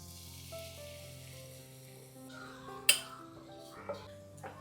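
Soaked poha hits hot ghee in a pan, a soft sizzle beneath faint steady hum, then a sharp clink followed by a couple of quieter knocks, close by with no talk.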